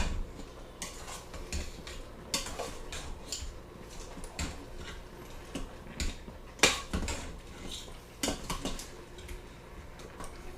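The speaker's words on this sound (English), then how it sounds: "we're going to put the sauce in there and mix it around until it's thoroughly incorporated" A utensil stirs marinara sauce into meatballs in a pot, with irregular scraping and clinking strokes against the pot that sound fairly close and moderately quiet.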